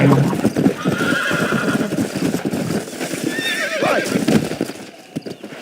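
A horse in the Red Dead Redemption video game trots with rapid clip-clopping hooves, then lets out a loud, wavering neigh near the end, close and prominent throughout.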